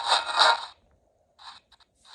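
Bursts of harsh spirit box radio static cut in and out, a noisy hiss followed by silence, then short choppy fragments as the scan jumps between stations.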